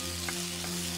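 Boiled potatoes are added to a hot Indian tempering in a pan, giving a constant loud frying sizzle with a couple of brief stirring scrapes and no talking.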